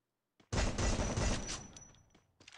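Gunfire from a silenced 12-gauge Mag-7 shotgun in a video game: a loud burst of rapid shots for about a second and a half, then fading, with another quick shot at the end.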